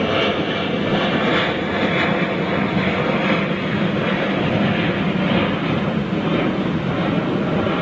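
Aircraft at London Heathrow Airport, including a BEA plane, roar steadily and loudly throughout, a continuous broadband engine rumble with no pauses.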